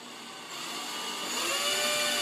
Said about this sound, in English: Now I'm going to pre-drill this hole just a little bit to get the screw started